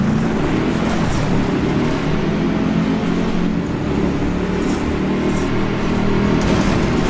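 Off-road 4x4 trucks, including a Chevy Blazer, racing in the video game Baja Edge of Control, a steady, loud, continuous engine roar and rumble with no pauses.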